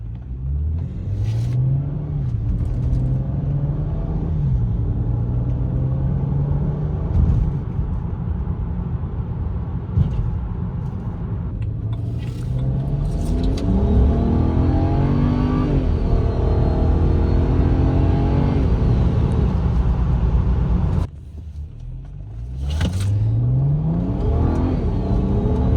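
A 2009 BMW E90 335i is driven on the road before a TCU transmission tune. Its engine revs climb repeatedly through the gears, dip at each shift and rumble loudly and close, with no talk.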